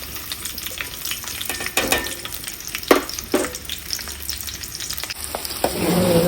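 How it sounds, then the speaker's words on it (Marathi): Onion frying in oil in a pot on a gas stove, a steady close crackle of sizzling broken by a few scraping stirs, growing slightly louder at the end. "तेलामध्ये कांदा टाकत आहे."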